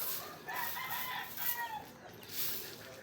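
Faint, distant rooster crowing comes and goes on a cold morning in the rural Philippines, over a soft hiss of outdoor ambience, with no talking.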